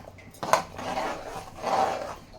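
A utensil clanks once against a pan, then scrapes and stirs as salt is mixed into a mushroom curry, close and moderately loud.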